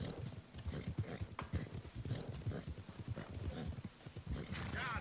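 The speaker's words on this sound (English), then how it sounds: "See, look at that horse go." A horse gallops in Red Dead Redemption 2, its clip-clop hoofbeats loud, close and rapid in a steady rhythm, with a brief sharp crack partway through.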